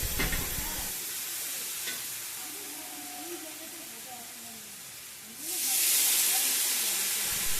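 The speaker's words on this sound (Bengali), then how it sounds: "তারপরে দিয়ে দিলাম সর্ষে ও পোস্ত এবং কাঁচা লঙ্কা পেস্ট" Mustard, poppy seed and green chili paste dropped into hot oil with white cumin for a katla fish dish, giving a steady frying sizzle that swells into a loud hissing burst near the end. A voice speaks over it.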